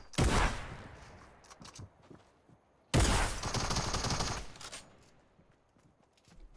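Minigun fire in the video game Fortnite, two loud rattling bursts of rapid shots, the first brief and the second lasting about two seconds, each trailing off into quieter game noise.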